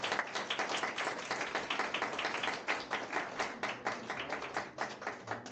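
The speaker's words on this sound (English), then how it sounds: "Let's have a bit of a round of applause for that." Wedding guests at De Courcey's Manor applaud during the service, a steady round of hand claps from a modest crowd, even and continuous for several seconds with no voices over it.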